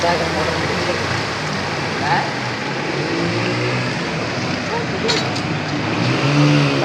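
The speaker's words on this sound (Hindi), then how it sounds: "मुल्तान इतनी तेज़ बारिश आई है कि दरिया की शक्ल नज़र आ रही है।" Heavy rain pours steadily over a flooded street in Multan, a dense continuous wash close by, with a vehicle-like rumble underneath and brief spatter bursts.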